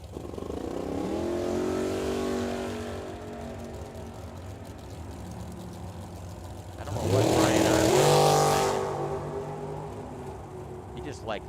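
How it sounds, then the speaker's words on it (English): A 1979 Chevrolet Malibu drag car with a 468 cubic inch engine races down a drag strip, its engine roaring and revving in two swelling passes, loud and close, with an announcer talking over it. "Brian Armstrong with that 79 Malibu, 468 cubic inch power plant"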